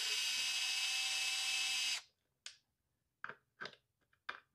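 A power screwdriver driving screws on a Onewheel Pint, a loud close whir for about two seconds, then several short bursts and clicks with quiet between them.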